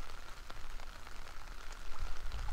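Steady rain falls on a surface beside a fishing lake, a dense even patter with scattered drops, continuous and close, with no voices.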